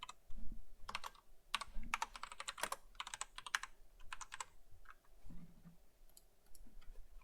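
Typing on a computer keyboard: bursts of quick, close key clicks in uneven runs with short pauses between, fairly quiet against a still room.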